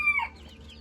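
Foreign fancy chickens at a poultry shop in Kolkata, a single brief high cluck up close, fading quickly into quiet.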